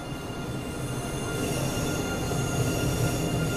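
A train in the Train Sim World 2 rail simulation rolls along the rails with a steady, continuous rumble and wheel noise that holds at an even level and swells slightly toward the end.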